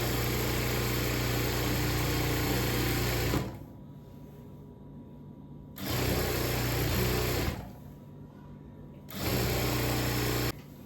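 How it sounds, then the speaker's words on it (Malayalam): A sewing machine stitches a double seam on a churidhar, running in steady loud bursts of about three seconds separated by short pauses where the motor drops to a quieter hum. "നമുക്ക് ഡബിൾ സ്റ്റിച്ച് കൊടുക്കാം ഇവിടെ"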